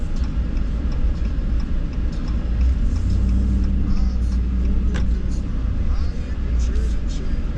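A heavy-duty pickup truck towing a 5th wheel trailer rumbles at low speed, its engine a steady deep drone with faint ticks and rattles.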